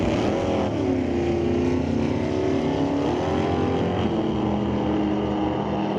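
Drag race at Mission Raceway Park between a Chevy II and a 1967 Camaro: a loud, steady engine roar holds throughout, with rising and sliding pitch as the cars accelerate, and no voices over it.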